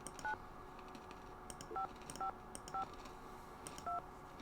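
Several short, two-tone telephone keypad beeps ring out one at a time with uneven gaps, faint and thin over a quiet background, as someone dials a phone inside a Nancy Drew mystery video game.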